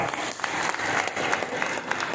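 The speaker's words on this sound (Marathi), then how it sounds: "तुमची सहमती असेल तर जोरदार टाळ्या वाजवा" A crowd at a yoga gathering in Shegaon, Maharashtra claps steadily throughout, a dense, lively applause with no talking over it.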